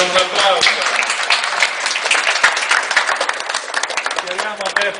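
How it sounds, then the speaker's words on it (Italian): Audience applause at the inauguration of a new parish oratory in Montefino, Italy, after a blessing: dense, loud clapping sustained throughout, with voices mixed in. "E facciamo un applauso."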